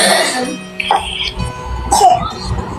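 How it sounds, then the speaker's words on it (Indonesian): A child coughs in a series of short, rough coughs with throat-clearing sounds, close and fairly loud, mixed with a little background talk. "anak kamu ya batuk-batuk"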